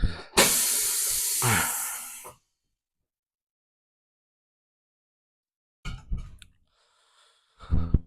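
Rubbery bead sealer is coated onto a motorcycle rim after a tire puncture repair: a loud, close spray hiss lasting about two seconds, followed by silence and later a few faint handling clicks and rustles.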